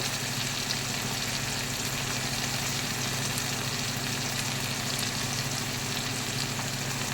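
Garlic paste, turmeric and chili powder sizzle steadily in hot oil in a pan, a continuous close frying hiss with no talking.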